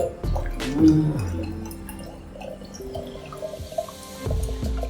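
Coconut water pours and splashes into a glass from a tender coconut, a gurgling, dripping flow with a few knocks and handling sounds, fairly close.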